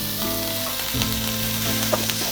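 Grated carrot tumbles into cabbage and other vegetables sautéing in a pan, a steady close sizzle with a soft thump and stirring scrapes as it lands.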